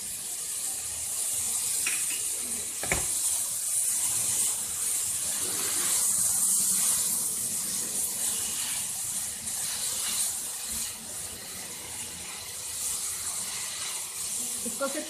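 Chillies frying in a pan for restaurant-style veg noodles give a steady, close hiss and crackle of steam, with a few sharp clinks from a utensil.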